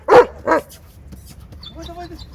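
A dog gives two sharp, close barks, then lets out soft, high whimpers, with a quiet room behind it.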